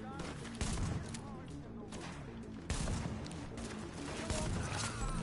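Dense game gunfire from Tom Clancy's The Division, likely shotgun and rifle blasts, pounding loud and continuous with heavier bursts near the start, middle and end, mixed with game effects.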